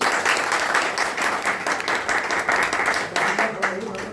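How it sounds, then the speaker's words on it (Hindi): Audience at a church meeting in Jabalpur clapping together, a dense, loud, continuous wash of applause with voices mixed in underneath, easing off near the end. "ताली बजा के"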